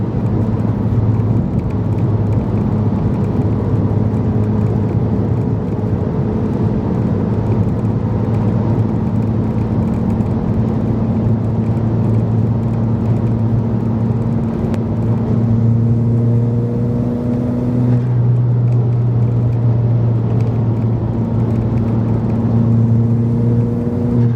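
A Mk4 Golf GTI with a 1.8-litre turbo engine and K04 turbo cruises on the highway, its steady droning engine hum and road rumble heard from inside the cabin, with slight pitch shifts as the revs change.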